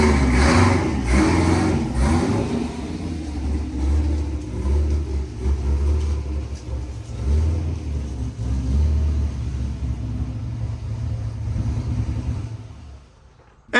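A Corvette engine runs steadily with a deep rumble while the car backs up, the low mechanical drone close and continuous before it cuts off abruptly at the end.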